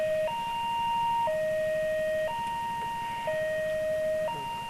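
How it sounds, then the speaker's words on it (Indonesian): A two-tone siren alternates steadily between high and low pitches, fairly distant, over a low rumbling engine. "Kena sirine ya."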